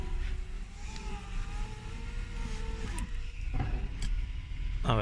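Whirring electric window motors on a Renault Megane RS with a repaired window motor, windows running up with rising, straining whines that stop with soft clunks, over a low car hum.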